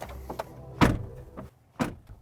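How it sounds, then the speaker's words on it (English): Car door of a 2022 BMW iX being closed, two distinct thuds about a second apart, close and fairly light with a hollow character, plus small clicks before them and quiet pauses between. "The door sound's really tinny and hollow as well, which is a little bit disappointing"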